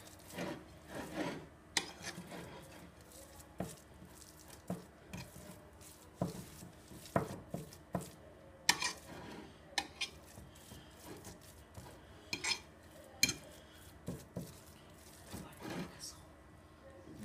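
Salted minced meat being mixed by hand or spoon in a bowl, soft irregular rubbing and squishing scrapes with occasional sharper knocks, quiet and close, with a person talking over it.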